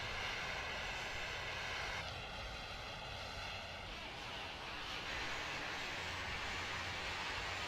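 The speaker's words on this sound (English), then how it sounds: "Alright, so we're going to taxi off of the runway." An American Airlines 767-223ER taxies off the runway at night after landing at Seattle/Tacoma, its engines giving a steady, broad roar with a faint whine from inside the aircraft.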